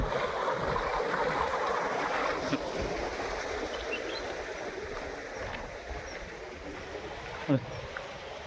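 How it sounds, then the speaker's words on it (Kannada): Steady rushing flow of water in an irrigation canal running beside a coconut plantation, a continuous broadband wash held at an even level throughout, with a brief knock near the end. "ಎನಿ ಟೈಮಲ್ಲಿ ನೀರು ಹರಿತಾ ಇರುತ್ತೆ ಚಾನಲ್ ಇದು"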